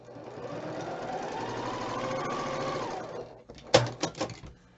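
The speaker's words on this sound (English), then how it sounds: "So let me sew this one" A sewing machine runs a seam across quilt fabric, a close steady motor whir with quick needle patter for about three seconds, then a few sharp clunks as it stops.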